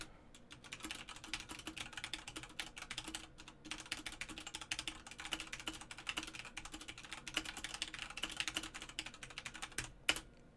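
Steady, fast typing on a computer keyboard picked up by a Blue Yeti condenser microphone, a continuous clatter of key presses with a few louder strokes near the end, no voices.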